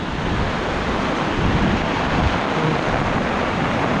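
Steady loud roar of strong wind and heavy rain during a Signal No. 3 typhoon, a dense unbroken rush of noise with gusty swells and no voices.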